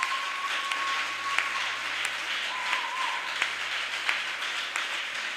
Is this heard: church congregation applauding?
yes